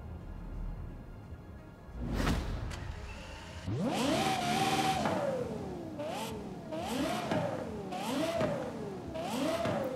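Engine revving in Forza Horizon 5, a Ferrari with a swapped Lexus LFA V12, revving up hard then pulsing through repeated rising and falling revs, loud and close, with a brief thump before.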